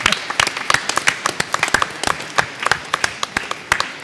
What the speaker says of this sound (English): Now you can clap.